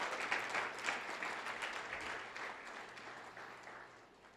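A church congregation applauding, a dense wash of many hands clapping that starts strong and gradually fades over several seconds, with no voices standing out.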